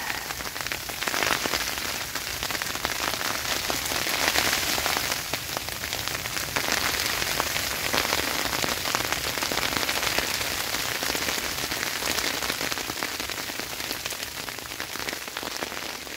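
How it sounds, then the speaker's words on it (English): Steady, heavy rain drums on a small hot tent while winter camping, a dense continuous patter with no pauses, close and loud throughout. "That rain is loud."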